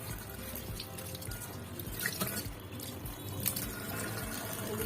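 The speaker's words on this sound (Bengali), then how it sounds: "একটু ভালো করে ধুয়ে নিব।" Pumpkin leaves from a potted balcony plant being washed in water, a steady running and splashing wash with small drips and clinks, close and continuous with no talking.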